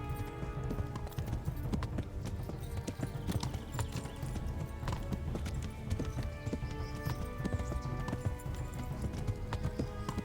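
Horse galloping in Kingdom Come: Deliverance, continuous fast clip-clop of hooves up close, blended with busy game ambience and a brief whinny.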